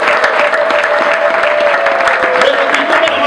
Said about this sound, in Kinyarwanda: Waretse tukayikomera amashyi,